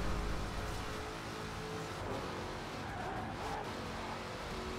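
A car corners in the Forza Horizon 4 racing game, its tires skidding on road tires, making a continuous low engine drone and scuffing rumble that ends in a sudden short thump.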